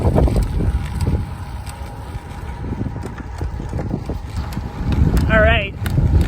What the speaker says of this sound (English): It's kind of windy, but warm-up's feeling good.